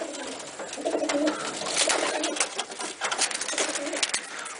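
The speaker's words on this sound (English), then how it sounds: "These birds in the aviary are seeing the ones outside flying around now, and it's really freaking them out." Racing pigeons cooing and fluttering restlessly inside an aviary, a steady mix of overlapping coos and wing flaps, fairly close and continuous without talk.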